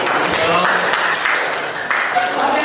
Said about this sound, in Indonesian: Tepuk tangan dulu kelompok 3.